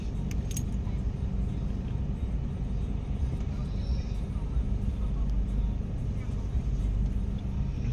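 Inside a moving dump truck, a loud constant low rumble of engine and road noise with faint rattling on top.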